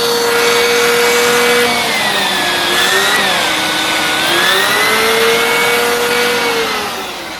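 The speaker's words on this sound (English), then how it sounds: "But here's what the turbo brush sounds like. That sounds really powerful." A Bissell Pet Hair Eraser cordless vacuum runs with its turbo brush engaged, giving a loud, steady motor whine whose pitch wavers up and down, close and alone, easing off slightly at the end.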